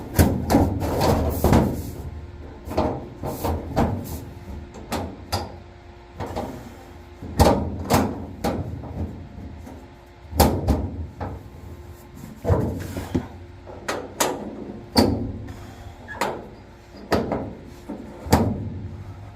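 Metal doors on the bottom of grain dryer fans are folded shut with repeated sharp clanks and thumps, landing close and irregularly over a steady low hum.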